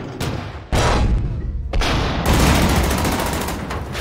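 Heavy gunfire and explosions from a World War II strategy battle against anti-tank guns, loud close bursts that start abruptly, pause briefly, then swell into a sustained roaring volley.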